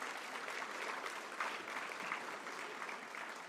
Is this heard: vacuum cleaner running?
no